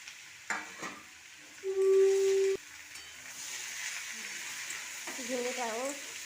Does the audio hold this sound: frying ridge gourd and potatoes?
yes